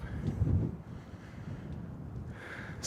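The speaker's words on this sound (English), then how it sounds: "It's quite windy." Wind gusts across the microphone during a walk in a park on a cold, grey day in Leduc, a steady rushing roar with a stronger buffet near the start.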